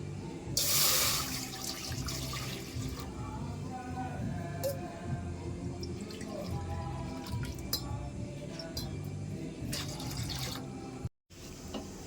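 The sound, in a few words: pouring water into a pan for cooking rice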